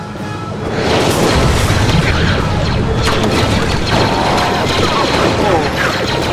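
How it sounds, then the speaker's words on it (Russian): Loud bursts of booming explosions and crashing impacts from blaster shots in a Star Wars: The Clone Wars video game pile up densely, with sharp shots mixed into a chaotic, noisy roar. "Каждый выстрел в цель!"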